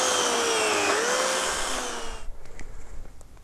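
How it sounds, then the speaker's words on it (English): An electric chainsaw from Aldi runs with a loud, steady high whine and a slight pitch shift, then cuts off partway through, leaving faint knocks and rustles. "At least with a chainsaw, you just turn it on and start cutting."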